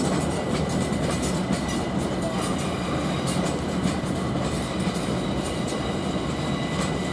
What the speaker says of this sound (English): Service now arriving on the platform is for Gideon Park